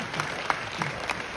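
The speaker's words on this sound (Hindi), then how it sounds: "तालियों के साथ इन सभी गणमान्य व्यक्तियों का स्वागत करें" Audience applause welcoming dignitaries at a coal field re-opening ceremony in Margherita, Assam; a short burst of dense, steady clapping from a crowd, moderately loud and continuous.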